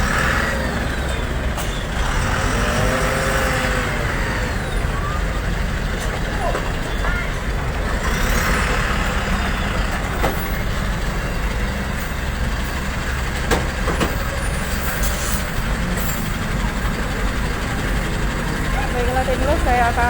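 Trucks and cars wait in a diesel fuel queue at a petrol station in Palembang, engines idling as a steady low rumble throughout, with people talking nearby and traffic noise around.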